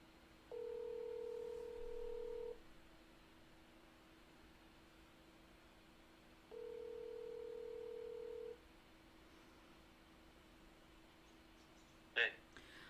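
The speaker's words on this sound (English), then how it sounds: "Let me call him on his cell phone." Ringing tone on a cell phone call: two long steady ring bursts with a gap between them, fairly loud over a quiet hiss, then a short click near the end.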